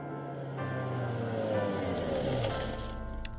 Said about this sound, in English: What's a Russian gunship doing in the middle of southern France?